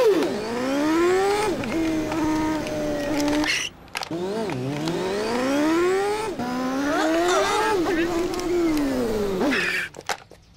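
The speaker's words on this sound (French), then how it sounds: "qu'est-ce que tu penses de ma voiture télécommandée? Je l'ai empruntée à mon frère." A remote-controlled toy car whines as it drives, its high electric motor pitch rising and falling through repeated accelerations with brief pauses between them, while voices talk over it.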